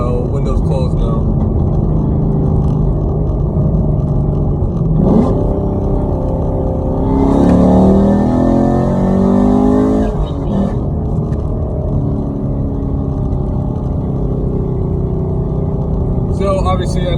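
A 2019 Chevrolet Camaro SS with Borla Atak exhaust, aftermarket cam and headers rumbles from inside with windows closed, a loud steady drone that swells as the engine revs up midway and then settles back down.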